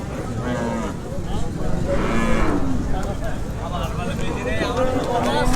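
Several cows moo repeatedly amid a busy outdoor crowd at a large Qurbani cattle market in Satkhira, Bangladesh, with people talking loudly throughout.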